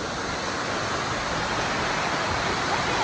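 Adams Waterfall rushing up close, a loud, steady broadband roar of falling water that fills the whole stretch without breaks.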